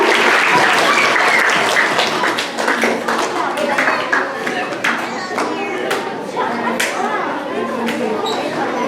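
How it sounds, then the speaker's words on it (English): A big round of audience applause as boys and girls come up to the stage at a school ceremony, dense sustained clapping from many hands that starts loud and eases slightly, with chatter mixed in. "Let's give these boys and girls a big round of applause as they come up to the stage."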